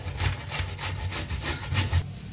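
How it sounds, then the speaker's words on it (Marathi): Peeled carrots rubbed against a hand grater in a home kitchen for carrot halwa: a close, steady run of rhythmic rasping strokes, roughly one every quarter second, with no talking. "हे घेतले बघा किसणी घेतले किसणी ना किसूया"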